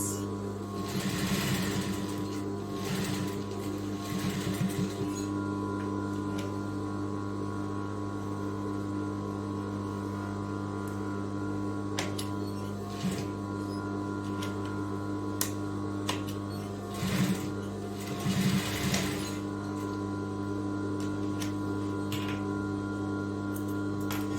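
A sewing machine stitches a welt pocket on a cropped bomber jacket. Its low motor hum runs steadily throughout, with short bursts of stitching rattle near the start and again later.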